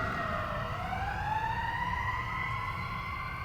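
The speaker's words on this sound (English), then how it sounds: "I'll wait till this siren passes." A passing emergency vehicle siren wails steadily with a slowly rising and falling pitch, loud and continuous over low traffic rumble, with no talk.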